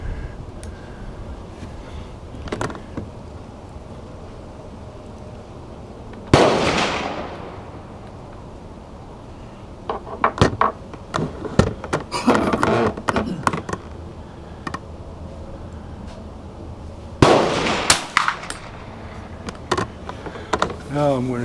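Sharp rifle shots from a scoped Winchester M190 at an outdoor target, a few loud cracks spaced several seconds apart among smaller clicks and handling noises, with people talking between shots.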